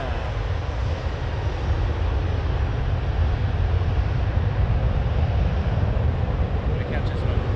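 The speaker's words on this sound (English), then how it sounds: "Behind that, 737-800 WestJet" A WestJet Boeing 737-800 airliner at Toronto Pearson Airport gives off a steady, loud jet engine roar that holds at an even level throughout, with broadband rumble and no clear speech.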